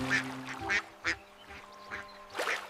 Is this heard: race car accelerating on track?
no